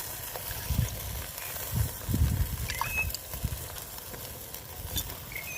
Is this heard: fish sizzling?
yes